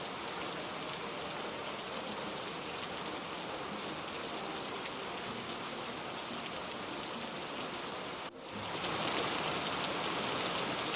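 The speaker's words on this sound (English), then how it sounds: "as it turns into a downpour, it begins." Heavy summer rain pours down on Vancouver Island in a dense, steady hiss that swells slightly louder near the end, with no voices.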